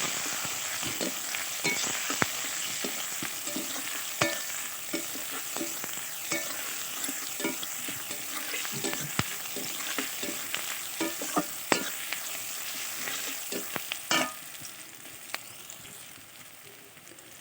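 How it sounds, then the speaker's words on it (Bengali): Chopped onion, garlic and whole bay leaves fry in hot oil in a pan with a continuous close sizzle, broken by frequent scraping clicks as the mixture is stirred. "তো পেঁয়াজ আর রসুনটাকে তেলে ভালো করে ভেজে নেব।"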